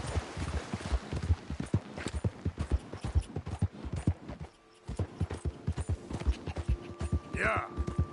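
Rapid, steady hoofbeats of a horse galloping in the Red Dead Redemption 2 video game, loud and close, with a short break midway, then a tonal whinny-like sound near the end.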